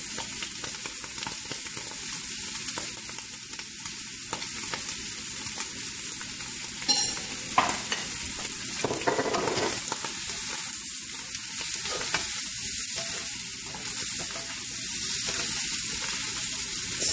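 Shrimps sizzle and fry in a pan with satay sauce, a steady close hiss broken by scraping stirs and clatter of the utensil against the pan.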